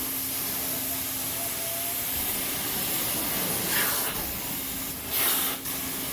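A hot water carpet cleaning machine, a ProCam Ever 650 running at 260 degrees with heavy vacuum, gives a loud, steady rushing hiss of spray and suction, swelling in brief surges near the end.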